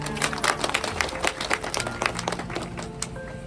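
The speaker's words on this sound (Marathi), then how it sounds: "पुन्हा एकदा सर्व मराठी माणसांसाठी जोरदार टाळ्या." Enthusiastic applause from a gathered crowd on a temple-visit bus tour, dense overlapping clapping that stays loud and steady throughout.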